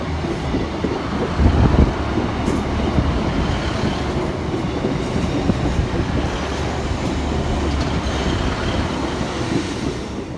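Two coupled Northern Class 150 diesel units pull into Stockport station, a loud, close rumble of engines and wheels with faint clatter and a brief swell near the start, steady throughout and no voices.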